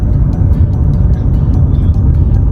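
A car drives up, heard as a continuous loud, low engine and road rumble close by, steady for the whole stretch.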